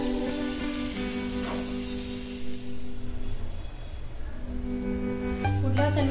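A vegetable pudla sandwich cooks in a pan with a soft, steady sizzle, a moderate frying hiss with brief shuffles as it is pressed and flipped, partly overlaid by background tones.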